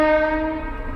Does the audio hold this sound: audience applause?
no